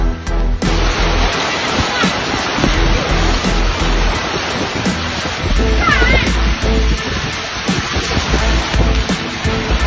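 Floodwater rushes through flooded areas of Rantau Panjang, Kelantan, a loud, continuous broadband roar of flowing water that persists throughout, with rhythmic clicking ticks and a brief whistling tone partway through.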